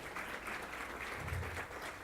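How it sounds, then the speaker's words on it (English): An audience at a school district address applauds, a steady, dense patter of many hands clapping together in a large room, continuous for the whole moment without talk. "Let's give him a round of applause."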